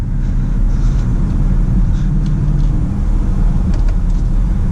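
A 2022 BMW X7 M50i SUV drives along a winding back mountain road, its engine a steady, deep rumble under loud road and cabin noise, with no speech.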